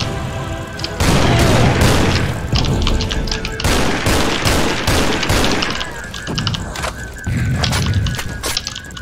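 Rocket blasts and crashing booms from the shooter game Bloodsugar pound loudly and almost continuously, one heavy burst running into the next with no voices over the din.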